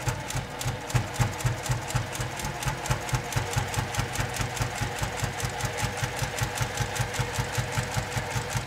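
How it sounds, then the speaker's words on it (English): Sewing machine stitching a cathedral window quilt wallhanging, running at a steady pace with a regular rhythmic needle thump and mechanical rattle, close and continuous throughout. "You're gonna lower this and then you're just gonna continue sewing."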